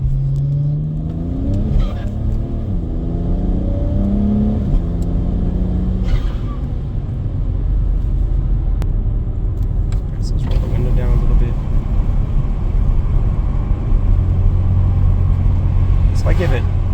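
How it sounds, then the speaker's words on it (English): A BMW 335i's turbocharged N54 engine drones and rises in pitch as it accelerates on a wet, cold road, with a turbo whine building over steady road rumble and wind noise. "You can hear the turbo spool up."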